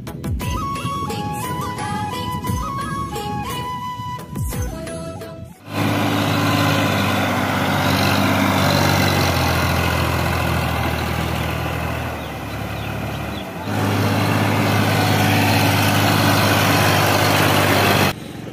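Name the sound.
tractor engine running while ploughing a field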